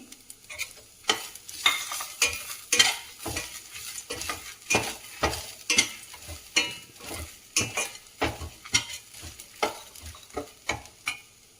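A spoon stirs grated coconut as it roasts in a hot pan for vangi bath, giving rhythmic scraping and clinking strokes over a soft sizzle, close and fairly quiet, with no talking.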